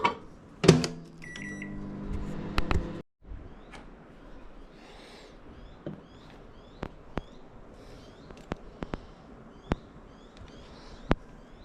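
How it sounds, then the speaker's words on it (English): Microwave oven running as it heats soft plastic lure material, opening with a loud beep and mechanical clatter, then a low steady hum with scattered faint clicks and ticks. "back in the microwave, and we'll continue our tail making"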